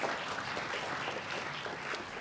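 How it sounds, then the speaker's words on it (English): Audience clapping at a ceremony unveiling student artwork for a Pennsylvania Turnpike plaza, a dense wash of applause at moderate distance, steady for the whole stretch. "Give them a round of applause, who had the brainchild."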